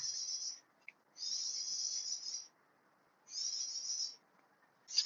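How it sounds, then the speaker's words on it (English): A high, buzzing bird trill rings out in long bursts, three times, separated by quiet pauses. "Listen to the birds."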